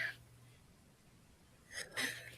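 A person sneezes close to the microphone, a sharp burst at the end following a brief breathy intake at the start, with a quiet room in between.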